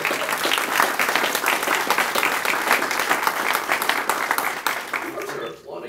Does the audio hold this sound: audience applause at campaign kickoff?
yes